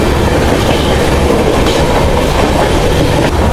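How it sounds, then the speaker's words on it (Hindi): Passenger train on a scenic north-east India railway between Guwahati and Badarpur, heard close and loud as a steady roar of wheels and rattling carriages with rhythmic clickety-clack, no voices. "ट्रेन सब क्रॉसिंग भी हो रही है"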